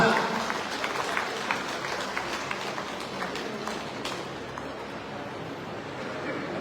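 Applause from the crowd at a party workers' meeting and inauguration in Govindarajanagar constituency, loud at first and gradually thinning into a softer patter with a murmuring crowd beneath.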